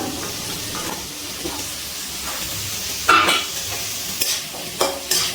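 Capsicum stir-fried with carrots and beans in a pan for a restaurant-style mixed veg, giving a steady close sizzle with scraping stirring strokes and a few louder bursts, no voices.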